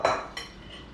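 Metal meatloaf pans clatter as they are slid back into a hot oven, a sharp clank followed by a second softer metallic knock, close and with no talking.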